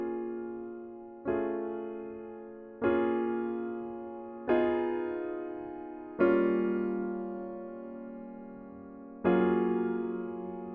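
Piano chords from a song are played with both hands. Six slow, sustained chords ring out one after another at an even, unhurried pace, with no voice over them.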